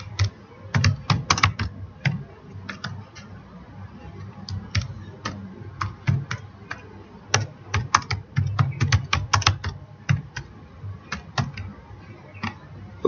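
Steady typing on a computer keyboard while entering names into an Excel spreadsheet: crisp, close key clicks in irregular quick runs with short pauses, with no talking over them.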